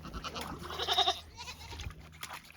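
A goat, one of the female goats being led out of a muddy, sinking pen, bleats once loudly and close by, with a short nasal wavering call and some shuffling around it.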